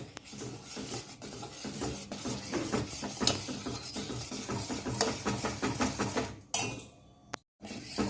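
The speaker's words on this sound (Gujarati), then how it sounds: "અને હવે આપણે આ દૂધને હલાવશું અને એકદમ થીક કરી દઈશું" A spoon stirring milk thickened with custard slurry for coffee custard pudding in a metal pot, giving steady scraping and clinking strokes close up, ending in a brief pause.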